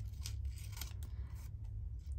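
Scissors snip paper around pointy shapes in a craft session, with several crisp cuts spaced about half a second apart over a low background rumble, close and fairly quiet.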